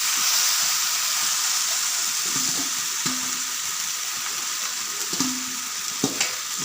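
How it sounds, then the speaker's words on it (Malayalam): Boiled tapioca, cooked with salt and turmeric, is stirred through a hot pan in a Kerala-style dish, a constant hissing sizzle with scattered soft spoon scrapes and light knocks, close and without talk. "ഇട്ടതിന് ശേഷം ഒന്ന് മിക്സ് ചെയ്യുകയാണ്."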